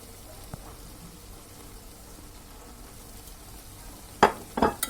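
Potato bhaji with cumin and coriander leaves stirred in a pan: a soft, steady sizzle of frying runs throughout, broken near the end by a few sharp scraping clatters of the spoon against the pan.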